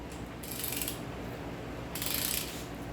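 A socket ratchet clicks in two quick bursts of rapid pawl ticks while snugging main bearing cap bolts on a 350ci engine bottom end during a rebuild, close and fairly quiet.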